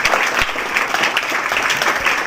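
Schoolchildren clapping together at a school event, dense steady applause close to the microphone with no other sound standing out.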